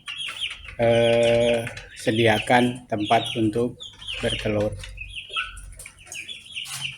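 Young free-range village chickens cluck in short bursts in a coop, close and clear, while someone talks over and between the calls.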